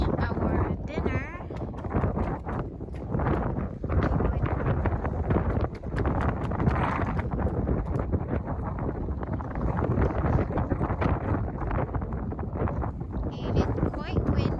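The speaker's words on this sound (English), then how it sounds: "And it's quite windy." Gusty wind at the Cleveland harbor on a freezing, snowy night, buffeting the microphone as a loud, continuous roar with faint voices mixed in.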